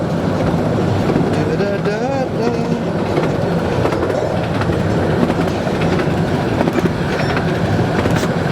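A Romney Hythe and Dymchurch Railway train rumbles steadily along the rails through marshland, a continuous loud roar with faint rhythmic clatter throughout.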